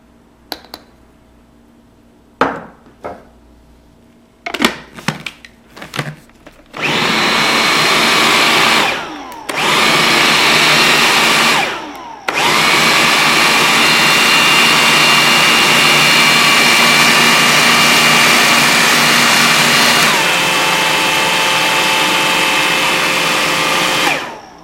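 Blender whirring through a falafel mixture of spices and flour: a few short pulses and clicks at first, then loud continuous motor roars with brief pauses, settling into one long steady grind that shifts pitch near the end.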